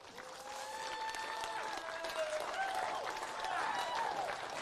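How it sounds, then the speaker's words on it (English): An audience greets lawn bowls teams with warm applause at a China versus Rest of the World showcase match, the clapping swelling and holding steady while voices call out over it. "Let's make sure we give them a real warm Barham round of applause."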